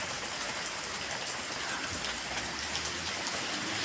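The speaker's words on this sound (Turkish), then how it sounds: "Yağmur." Steady rain falls on nearby surfaces with a continuous, dense hiss of drops and a low background rumble, heard alone and fairly loud from start to finish.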